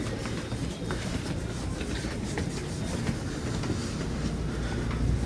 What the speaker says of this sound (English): And there's a line 2 subway train.